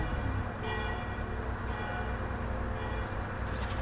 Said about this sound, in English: That bell noise is just constantly going, isn't it?